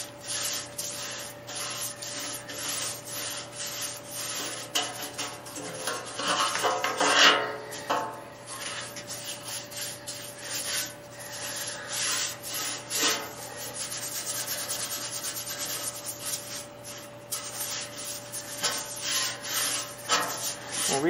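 Rust treatment coating is spread around the inside of a rotten 1956 oval-window VW Beetle gas tank, making continuous close rubbing and scraping strokes in an uneven rhythm.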